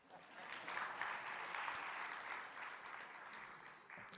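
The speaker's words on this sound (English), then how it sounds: "I expected a hand of applause." Audience applause at the 2024 inaugural Built Environment Indaba, a conference hall crowd clapping steadily and densely for about four seconds at moderate, even volume, slightly distant.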